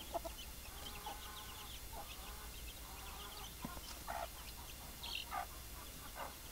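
Native chickens in a backyard coop clucking and calling in short scattered bursts, moderately distant over a steady background hiss, with no talk.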